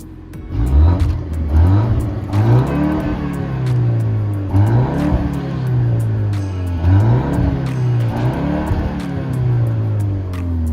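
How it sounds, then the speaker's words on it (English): A 2024 BMW X2 M35i barks through its four exhaust pipes, revving up and down in repeated rising and falling sweeps, loud and close with no one talking. "So the four pipes of the vehicle sound like this."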